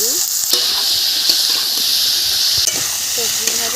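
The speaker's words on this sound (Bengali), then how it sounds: "সবজি ভাজা হয়ে গেছে," Vegetables seasoned with turmeric and salt fry in a pan, giving a loud, dense, continuous sizzle with light stirring scrapes.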